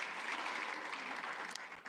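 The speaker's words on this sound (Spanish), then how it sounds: "aplauda al Señor si el Señor le está hablando a su corazón" A church congregation claps together in steady, dense applause that continues throughout, heard from a moderate distance and fading slightly toward the end.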